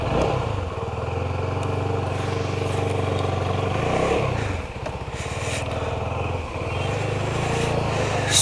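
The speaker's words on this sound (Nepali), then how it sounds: "बाइक चाहिँ कस्तो फाइन एकदम छुट्टै चले जस्तो लागिरहेछ" A serviced CFMoto 250NK Limited Edition motorcycle runs while being ridden, its engine droning steadily with brief dips as the rider shifts, close and continuous under wind noise.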